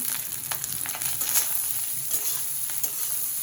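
Onions fry in a pan with a steady, bright sizzle and occasional stirring scrapes, loud and close throughout, with no voices.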